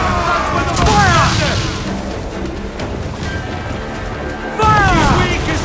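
Ship cannons boom in Assassin's Creed IV: Black Flag, with heavy blasts near the start and again near the end over a constant roar of wind and sea, while shouting crew voices carry throughout.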